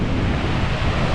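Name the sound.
big ocean waves and wind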